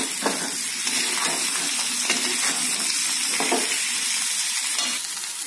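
Boiled potatoes frying on a high gas flame, a dense continuous sizzle with repeated stirring scrapes against the pan, close and steady, without speech.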